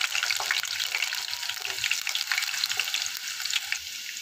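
Whole spices, red chili and finely chopped garlic sizzle in hot oil for a dal tadka, a steady, close, crackling fry with a faint stirring scrape and no talking.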